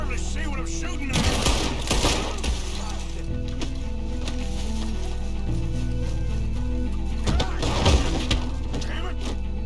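Gunfire from a night shootout in Red Dead Redemption 2, with bursts of shots over a steady musical score, heaviest near the start and again around the eighth second, and voices talking underneath.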